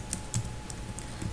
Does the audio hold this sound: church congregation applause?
no